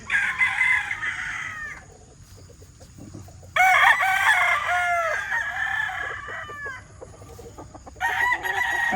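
A stag rooster crows loudly and close by in three bursts, the long drawn-out calls separated by short pauses with low background murmur between them.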